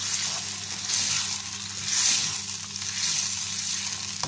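Pasta sauce with oregano sizzling in a pan, a continuous close frying hiss that rises and falls in slow gentle swells while being stirred, with a low steady hum underneath and no talking.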